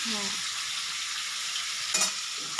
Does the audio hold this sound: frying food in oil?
yes